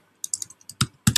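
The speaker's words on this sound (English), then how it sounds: "here I'll get a little different dialog box to type into." A computer keyboard being typed on during a Google Drawing word art entry, a quick run of close, crisp key clicks with a few heavier thuds near the end, no voice.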